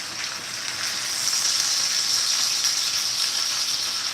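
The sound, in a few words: chicken sizzling in a frying pan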